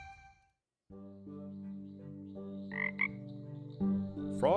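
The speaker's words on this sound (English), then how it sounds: "okay. Frogs." Frogs croaking in the cozy farming and crafting video game Kamairu, a steady layered chorus of low, resonant croaks over soft game music, with a few brighter chirps rising toward the end.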